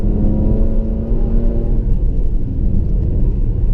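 A 2016 Jaguar F-PACE S 35t at full throttle gives a loud, deep engine roar from inside the cabin, its pitch climbing briefly then settling into a steady rumble.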